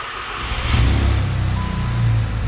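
A Volkswagen Golf MK7 GTI fitted with a big turbo and a stock exhaust revs up close by, its engine note swelling and holding loud with a muted, quiet exhaust tone.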